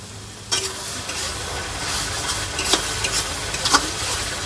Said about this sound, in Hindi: तो एला में डाल देता हूँ अब मसाला में, ताकि थोड़ा बहुत मसाला एमा भी एब्जॉर्ब हो जाए